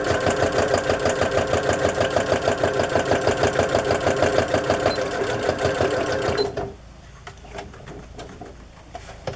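A sewing machine stitches a playing card onto a journal page, a fast, even mechanical chatter running for about six seconds before stopping abruptly, leaving quiet handling noises.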